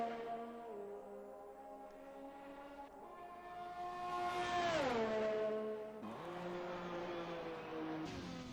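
An F1 car engine screams through a flying qualifying lap at Canada in an Xbox racing game. One loud engine note climbs through the gears, sweeps down sharply into braking around the middle, then climbs again, with no talking.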